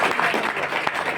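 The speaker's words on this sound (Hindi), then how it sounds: "तो जोरदार तो ताली मारी।" Audience applause in a business meeting hall, a dense burst of clapping that fills the short moment loudly and evenly.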